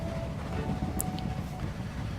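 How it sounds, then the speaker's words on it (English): A super fast train rushes past in the Japan scenario of the video game Train Valley, a steady low rumble of rolling wheels that holds for the whole stretch, with a brief high chime near the middle. "That seemed to be a super fast train."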